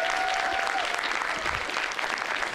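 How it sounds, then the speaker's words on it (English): Convention audience at an anime expo panel applauding, a dense, continuous roar of many hands clapping close by, steady throughout with a faint tone and some voices mixed in. "So let's give him a round of applause."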